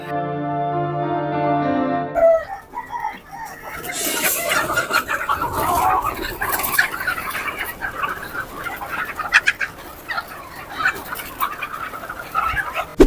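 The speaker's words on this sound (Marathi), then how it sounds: "आता कोंबड्या सोडल्यानंतर काही किती वेळामध्ये हे चारा फस्त करतात ते तुम्ही फक्त बघा" A flock of free-range village chickens clucks and squawks busily nearby while eating feed, with scattered pecking and scratching noises. A tonal musical sting opens before the birds start.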